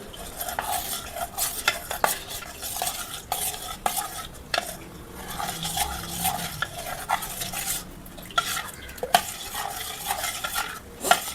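A spoon stirring and scraping cornflour mixed with water around a pot for halwa, in a quick, repeated rhythm, with light clinks close by.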